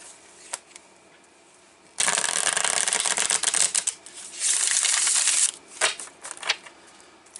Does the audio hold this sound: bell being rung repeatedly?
no